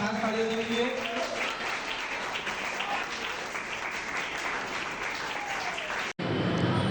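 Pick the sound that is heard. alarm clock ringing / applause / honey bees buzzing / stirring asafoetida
applause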